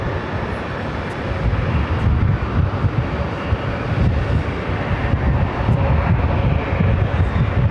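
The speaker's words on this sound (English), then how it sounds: "That was a JetBlue A320 taking off from runway 13 right, heading to San Juan." A JetBlue A320 taking off from runway 13 right at JFK produces a loud, steady jet engine roar with heavy wind rumble on the microphone, building slightly and holding for the whole stretch with no talk.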